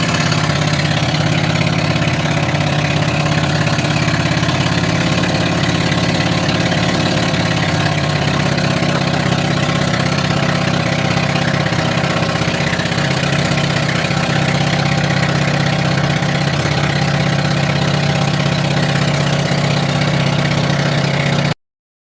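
A boat's motor running steadily throughout, a continuous mid-low drone at constant speed, close and loud with no talk over it.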